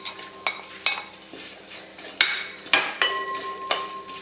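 Coconut pieces, cashews and raisins frying in ghee give a soft, quiet sizzle broken by repeated sharp scrapes and taps of a spoon stirring against the pan, several strokes in a few seconds.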